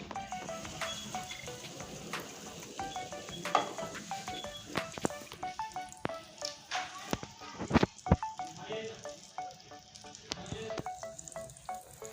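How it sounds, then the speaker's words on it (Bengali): Fish roe pakoras coated in gram-flour batter dropped into hot oil one after another, a steady crackling sizzle with sharp pops, under a person talking throughout. "এখন আমি তেলের ভিতরে ছেড়ে দিচ্ছি"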